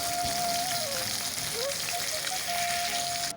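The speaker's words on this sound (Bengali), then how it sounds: "তেলটা গরম হয়ে যাওয়ার পর মাছগুলো দিয়ে দিলাম।" Pieces of rohu fish frying in hot oil in a kadai, a dense continuous sizzle close by with a faint tonal whine drifting over it and no one speaking.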